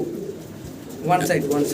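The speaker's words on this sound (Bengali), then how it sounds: "আমরা কবুতর দেখতেছি" Low, soft cooing of pigeons up close, a brief burrowing call rising near the end over a murmuring background.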